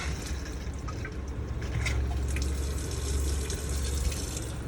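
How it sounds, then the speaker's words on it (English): A steady stream of water runs from a pump-fed tap into a small sink in a Mercedes Class B camper van, a continuous splashing hiss with no voices. "Once you turn on the water pump, you'll have water over here."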